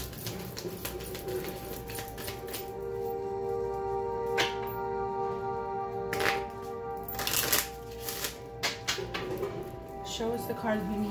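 Tarot cards are shuffled by hand in repeated papery riffles and soft slaps at an uneven pace, close and fairly quiet, over a steady background hum and occasional faint bird coos.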